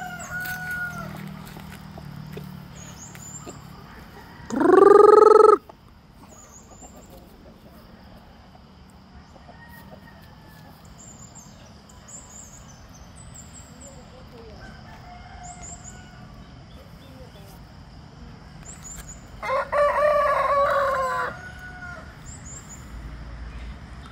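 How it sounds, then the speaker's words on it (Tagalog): Rhode Island Red rooster crowing twice, once loud and close and again a bit fainter later, with soft hen clucks and distant bird chirps filling the gaps. "Chicken everywhere. I have chicken everywhere. Everywhere is chicken."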